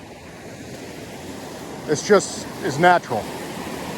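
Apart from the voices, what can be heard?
waterfall and creek in Newfoundland wilderness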